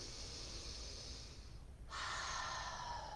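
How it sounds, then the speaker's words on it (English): Deep breathing during a seated yoga shoulder and chest stretch at a desk, a long steady airy exhale followed after a short pause by a louder, brighter breath, close and alone with no talking. "Making deep breaths in through the nose if possible."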